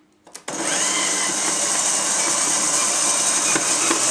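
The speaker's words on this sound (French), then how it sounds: "on va commencer à mélanger le sucre glace et le beurre" After a few clicks, an electric mixer starts up and runs steadily, whirring loudly and continuously as it beats icing sugar and butter for a raspberry frangipane galette.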